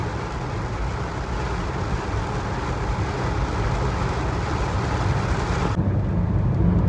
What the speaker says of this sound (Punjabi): ਇੰਨਾ ਸੰਘਣਾ ਇੰਨਾ ਤੇਜ਼ ਮੀਂਹ ਬਹੁਤ ਦੇਰ ਬਾਅਦ ਦੇਖਿਆ